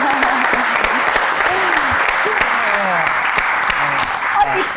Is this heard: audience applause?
yes